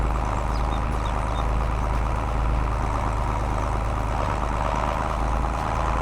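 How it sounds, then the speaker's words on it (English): A tractor engine idles steadily in Farming Simulator 22, a continuous low rumble with a mid-range drone that holds even and fairly loud, with no talk over it. "I do love the sound of this tractor."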